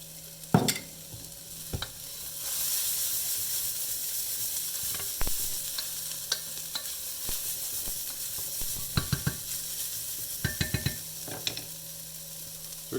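Onions fry in oil in a pan for chickpea noodle soup, giving a steady, close sizzle with a faint hiss and occasional sharp clicks and taps from stirring utensils against the pan.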